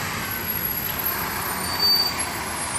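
A Scania K410 IB bus on a tri-axle chassis, packed with passengers on a Bengkulu route, gives off a loud, steady close-up engine drone that swells briefly near the end.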